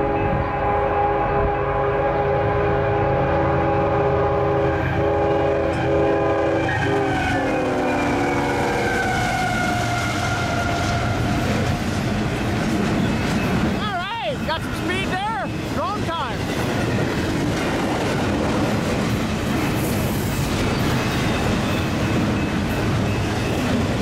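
A westbound Union Pacific train on the Clinton Sub passes at speed: a loud, steady rumble of wheels and cars with a sustained multi-tone horn in the first seconds, then a brief wavering tone midway.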